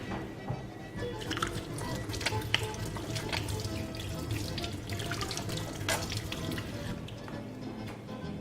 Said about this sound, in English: let me just wash my hands briefly